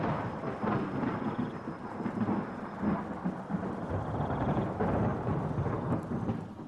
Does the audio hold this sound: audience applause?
no